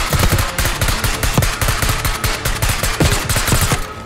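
Rapid, loud gunfire from the Black Ops 6 video game, dense bursts of shots stacked close together in a continuous barrage that never lets up.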